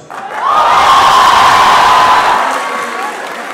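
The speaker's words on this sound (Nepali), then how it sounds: "तपाईहरुको यो तालीले, तपाईहरुको यो हाँसोले मलाई छुट्टै ऊर्जा दिएको छ।" An audience in a hall bursts into loud cheering and applause, a dense roar of claps and shouts that swells quickly, holds, then slowly fades.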